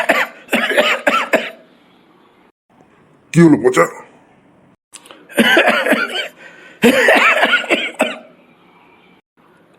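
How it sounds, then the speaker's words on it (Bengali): Animated cartoon schoolboy coughing heavily after catching a cold in the rain, several loud bursts of harsh coughing broken by short gaps, with a brief spoken line from another voice in between. "প্রচন্ড কাশি হচ্ছে"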